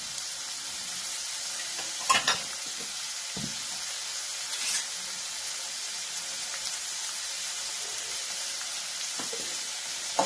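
Vegetables for aloo poha vada fry in a pan with a constant soft sizzling hiss, broken now and then by the brief scrape and knock of a spoon stirring them.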